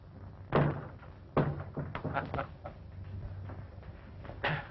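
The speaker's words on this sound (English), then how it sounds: "Close the door, Butch" A door closes in a 1932 western film scene with a couple of dull, muffled thuds and some shuffling, all with thin, band-limited old-soundtrack quality.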